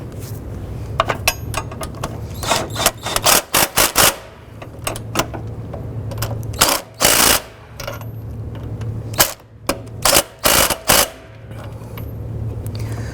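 Impact gun hammering 14mm bolts on a 2007-2011 Honda Civic transmission mount, in loud bursts of rattling impacts repeated many times with short pauses between them, close up in a workshop.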